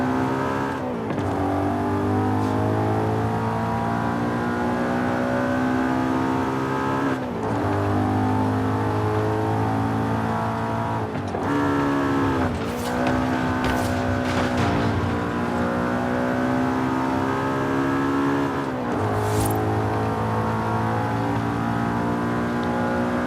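A car engine in the Forza Horizon 5 racing game revs hard and steadily for the whole stretch, loud and close. The pitch climbs and drops again and again as the car accelerates and shifts gears.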